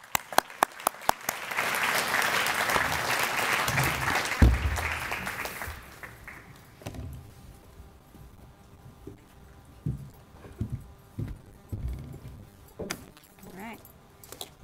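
An indoor audience claps in welcome, a dense burst of applause swelling and fading over a few seconds, followed by scattered footsteps and shuffling as a speaker comes forward.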